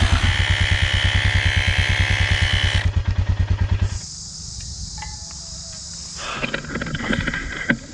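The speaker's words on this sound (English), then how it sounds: "The rescue tech tire inflator is at work." A Rescue Tech portable tire inflator pumping up a Royal Enfield Himalayan motorcycle tire after a puncture, a loud rapid buzzing compressor pulse for about four seconds, then it stops and quieter ambient noise follows.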